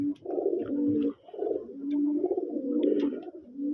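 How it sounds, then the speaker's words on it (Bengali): Desi coloring golla pigeons coo steadily on a pigeon farm, a close, continuous layered chorus of soft rolling calls with only a brief pause, and no voices. "এগুলো আমার শখের কবুতরগুলি দেখুন"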